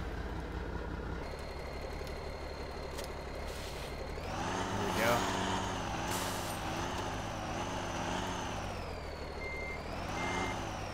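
Heavy truck engine in the Farming Simulator 2015 game on a sawmill map, a steady low drone with a revving swell around the middle, plus steady reversing beeps and an air-brake hiss.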